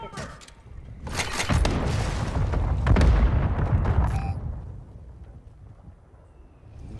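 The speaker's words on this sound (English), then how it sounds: "Mortar on us." Mortar strikes in Call of Duty Warzone: a heavy rumbling explosion swells over a few seconds with sharp blasts at its peak, then fades into a low lingering tail.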